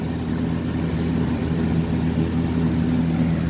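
A Lakewood ceiling fan motor with brace blades running at medium speed, a steady, close electrical hum with a low tonal drone and faint whir, unchanging and with no talking.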